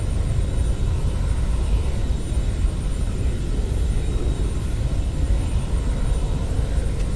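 Steady, loud drone of an airplane engine, probably propeller-driven, holding a constant low rumble for the whole stretch with no voices.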